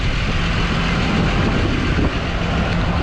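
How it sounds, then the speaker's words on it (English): A tram at Walt Disney World rolls past with a steady, continuous rumble and broad wheel and motor noise, fairly loud and even throughout, with no talking. "That's the tram."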